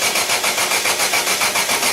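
A Caterham sports car's engine cranks and turns over near the exhaust, a loud, close, rapid pulsing chug that repeats steadily without catching, with no talking.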